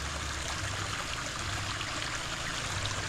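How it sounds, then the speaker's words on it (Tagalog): River water flows strongly through a farm, making a steady, broad rushing and gurgling that holds evenly throughout at moderate loudness, with no voices. "lakas ng tubig dito. Galing din sa ilog sa taas"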